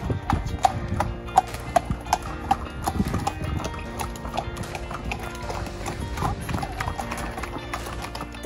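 Horse hooves clip-clop in a steady, even rhythm on a pony camp ride along a wooded track, close and clear, with a brief whinny and faint background sounds.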